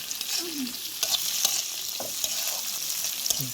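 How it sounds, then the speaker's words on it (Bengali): Pitha fries in a pan with a soft continuous sizzle, punctuated by a few light stirring scrapes and clicks, close and fairly quiet. "এটা উঠতে থাক, ভাজাও হোক পিঠাটাও সিদ্ধ হোক।"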